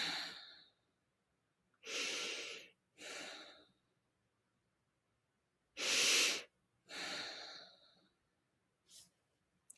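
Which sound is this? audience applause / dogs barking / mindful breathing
mindful breathing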